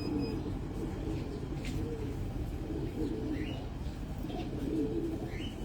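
Pigeons coo softly on a rooftop in Abu Dhabi, their low, repeated calls faint over a steady background murmur.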